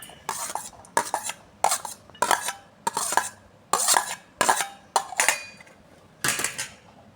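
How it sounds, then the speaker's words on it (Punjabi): Leftover cooked rice being mixed with chopped onion and chilies in a bowl to make tikki, giving repeated clinking and scraping strokes of a spoon against a dish in steady bursts, close and alone. "ਚੋਲਾ ਵਿੱਚ ਪਾਵਾਂਗੇ ਕਟਿਆ ਹੋਇਆ ਪਿਆਜ਼ ਤੇ ਮਿਰਚਾਂ ਇਹਨਾਂ ਸਾਰਿਆਂ ਨੂੰ ਮਿਕਸ ਕਰ ਲਵਾਂਗੇ"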